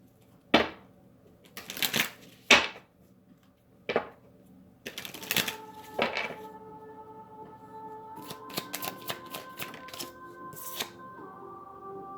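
Cards being shuffled for a tarot-style reading, several sharp riffling bursts close up with pauses between, then quicker clustered flicks and snaps of cards handled near the microphone.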